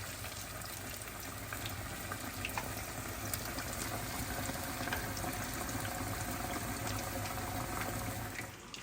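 Battered cod fillets fry in oil in a pan, giving a steady, dense bubbling sizzle that holds at an even level throughout, with no talking.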